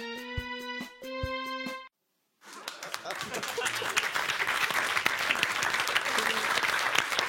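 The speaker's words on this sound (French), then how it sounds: "Ça s'applaudit." A theatre audience at a French variety show bursts into sustained applause after a brief silence, dense clapping that builds and holds loud, following some musical tones at the start.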